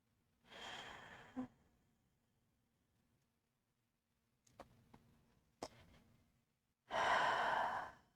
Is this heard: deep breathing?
yes